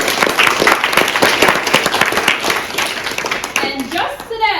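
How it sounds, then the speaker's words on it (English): An audience at a school Halloween play breaks into loud, close applause for two performers, a thick clatter of many clapping hands that carries steadily before thinning near the end as voices rise. "an additional applause for Chris and Ryan"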